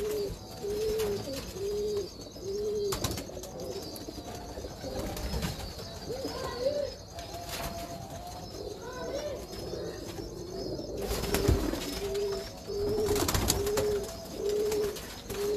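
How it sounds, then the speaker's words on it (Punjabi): Breeder pigeons coo in repeated rolling phrases close by, with occasional bursts of wing flapping and rustling, while people talk intermittently in the background. "ਕਬੂਤਰ ਦੇਖੋ ਕਿਤਨਾ ਹਸੀਨ ਕਬੂਤਰ ਆ"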